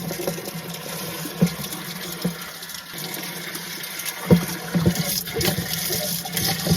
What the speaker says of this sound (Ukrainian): чуть-чуть краник відкрив, там водичка тече